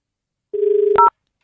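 Telephone keypad dialing tones from a prank call: a steady single tone followed by a short, bright two-note beep, clear and alone with no talk.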